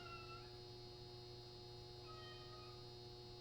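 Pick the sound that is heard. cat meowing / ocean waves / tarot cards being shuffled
cat meowing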